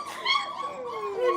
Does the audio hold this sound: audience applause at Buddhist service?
no